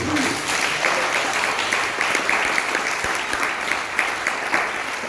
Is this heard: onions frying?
no